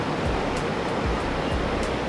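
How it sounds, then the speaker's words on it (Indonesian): Steady broadband rush of a river flowing beside a quiet mountain-view resort hotel in the evening, continuous and fairly loud with no voices, the water noise smooth and unbroken throughout. "Jadi di sini suara tuh paling ada suara sungai aja dari samping."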